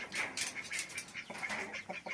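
A newly bought hen on a farm gives soft clucks and rustles in quiet short bursts, with bird sounds close by and no talking.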